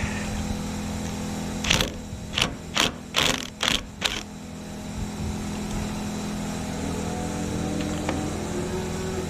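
Impact gun with a worn bit that keeps dropping its socket, firing in a quick series of about six short rattling bursts over a steady background engine hum, then the hum continues alone.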